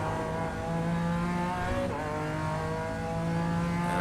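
A BMW M4 G82 GT4 race car in iRacing at Circuit Zolder drops down through the gears, its engine note stepping in pitch around the shifts while the steady mechanical drone stays close and continuous, with no talking.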